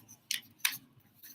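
Scissors snip paper while cutting out snowflakes, three sharp, quick cuts spaced unevenly in a quiet room.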